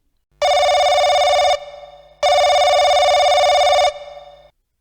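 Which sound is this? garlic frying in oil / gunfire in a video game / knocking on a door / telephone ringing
telephone ringing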